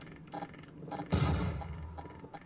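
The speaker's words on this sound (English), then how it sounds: "Grenade!" Grenade explosion in the Halo ODST video game, a single sudden booming burst midway that rolls out for about half a second amid quieter game sounds and faint voice.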